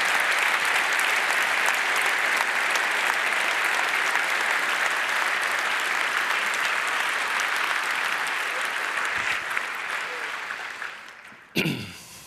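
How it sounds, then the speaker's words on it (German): A large audience at the 30C3 congress closing event breaks into loud, sustained applause that holds steady for about ten seconds, then fades before a short final burst. "gibt es auch mal einen richtig dicken Applaus"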